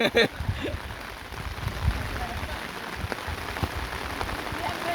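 Rain falls steadily during a football game, a continuous close patter and hiss with scattered thumps. People talk faintly underneath.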